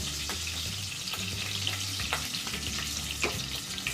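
Curry leaves fry in a pan while being stirred, a steady close sizzle with occasional sharp crackles and utensil scrapes over a low background hum.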